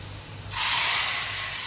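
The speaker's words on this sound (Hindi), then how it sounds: "जो तड़का हमने करे हैं वो अब हम इसमें डाल देंगे" A sudden loud sizzle bursts in as a hot spice tempering is poured into cooked lentils, then holds as a steady hiss, like hot oil hitting liquid.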